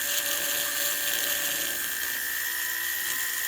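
High-pitched whine of a rotary porting tool working a Stihl MS 261 chainsaw cylinder, its pitch shifting as the speed is changed by foot pedal, steady and close throughout.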